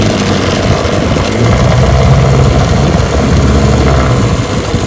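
A 1968 Johnson 9.5 HP outboard motor idles loudly and steadily up close, with a continuous buzzing drone and no talking.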